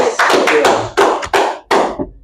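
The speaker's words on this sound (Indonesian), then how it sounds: "Tepuk tangan dulu ngasih buat Unity." A small audience in a talk-show studio claps for a guest in a few sharp, separate bursts. Each burst starts loud and fades quickly, with brief gaps between them.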